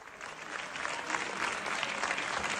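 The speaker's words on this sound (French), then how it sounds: "Au moment où le texte est voté, au milieu des applaudissements" Applause from deputies in the French National Assembly chamber as a bill is voted, a dense, steady wash of clapping from many hands that swells slightly and holds.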